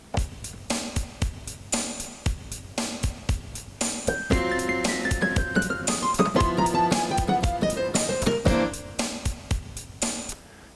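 A blues piano plays a left-hand pattern over a 2-5-1 chord progression, with steady rhythmic low chords and a descending run of high notes in the middle, played alone and clearly close.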